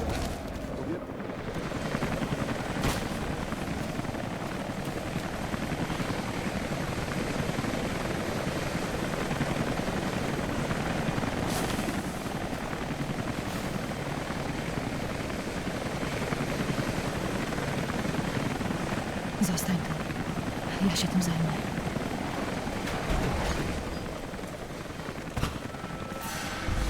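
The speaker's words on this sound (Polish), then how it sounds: "Ostatni śmigłowiec wystartował." Helicopter rotor roar from the video game Rise of the Tomb Raider as the last chopper takes off, a loud continuous thrum filling the whole stretch with a dense, steady wash of engine and wind noise.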